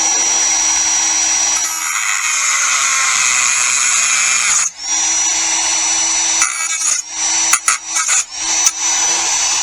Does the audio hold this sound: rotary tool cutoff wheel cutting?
yes